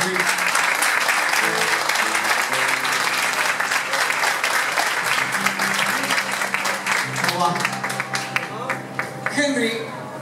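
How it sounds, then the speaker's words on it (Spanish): An audience applauds steadily at a live show in Olivos, a dense, loud wash of clapping that holds for about ten seconds. Faint instrumental tones and a voice sit underneath. "Vamos a darle un fuerte aplauso a Henry Donati, por favor."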